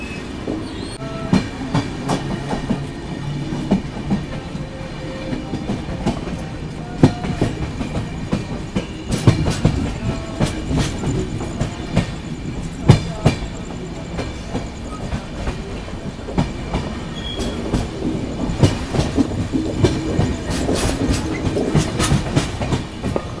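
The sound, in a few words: train running on rails, clickety-clack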